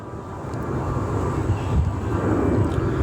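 A jet airliner in panda livery at an airport gives off a steady low engine roar with wind rumble, continuous and fairly loud throughout.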